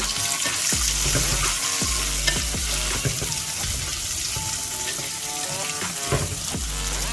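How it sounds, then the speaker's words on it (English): Onion added to hot oil for Mangalore-style village crab sukka, giving a loud, continuous crackling sizzle with scattered pops and occasional clinks of a utensil, no voices. "Okay, I'm adding the onion."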